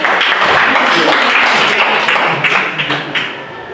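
A class of students applauds a group at a school lesson, a loud dense patter of clapping close by that runs steadily before thinning out toward the end, with faint voices underneath.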